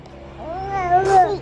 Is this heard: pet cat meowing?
yes